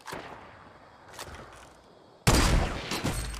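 Gunfire in a Fortnite match: a few sharp distant cracks, then a sudden loud close burst of shots with echoing tails.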